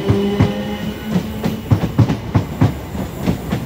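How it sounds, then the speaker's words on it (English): A train rolls past at Clapham Junction station on the South Western Main Line, its wheels beating a steady clickety-clack over the rail joints, close and fairly loud with no voices. "there's a lot more trains that do come in"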